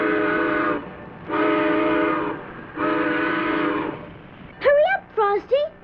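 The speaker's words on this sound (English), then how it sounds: "The train is pulling out." A cartoon train whistle sounds three long, loud, harmonic blasts as the train pulls out, followed by a quick series of short, warbling toots.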